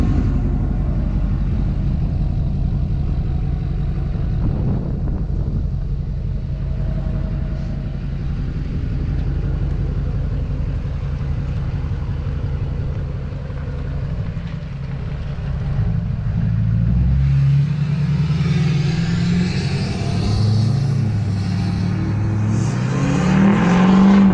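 A loud, deep LBZ Duramax diesel truck exhaust with a 5-inch straight pipe rumbles steadily, then rises in pitch and roar near the end as it accelerates away, with no talking.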